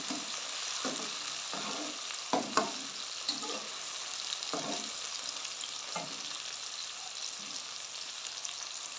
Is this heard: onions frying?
yes